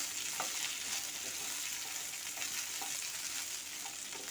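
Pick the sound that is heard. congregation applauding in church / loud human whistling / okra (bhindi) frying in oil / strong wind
okra (bhindi) frying in oil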